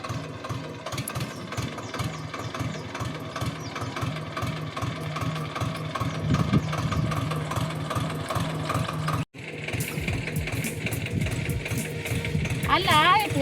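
A tractor engine chugs in a steady low rhythm throughout, with brief knocking beats and a short cut near the end, while people talk over it.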